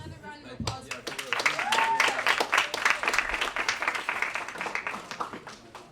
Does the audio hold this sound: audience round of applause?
yes